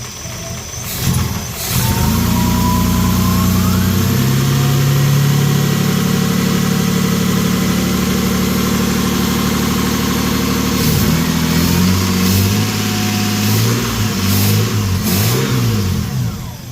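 A Nissan Patrol GQ's newly fitted RB30 engine runs steadily at close range, briefly revving near the start before settling into a smooth idle, with a few more small revs toward the end.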